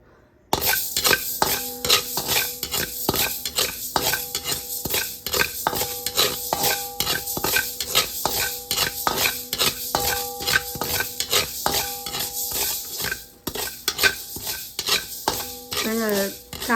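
Fenugreek seeds dry-roast in a pan for sambar powder, with a rapid, rhythmic scraping and clinking of a metal spoon stirring them, loud and close, plus a light crackle underneath.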